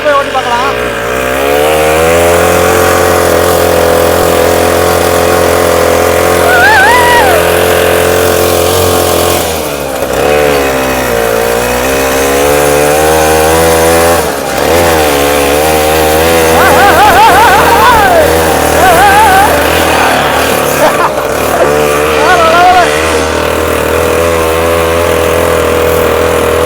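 A homemade Mahindra-style mini jeep engine runs loud and close, holding a steady throbbing idle and rising in several revs throughout, with brief dips and no talk over it.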